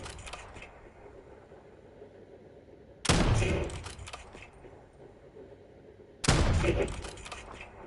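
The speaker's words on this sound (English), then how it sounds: "let's try shooting these" Two sharp bursts of gunfire at the firing range in Black Ops, each a loud volley about three seconds apart that trails off over a low background hum.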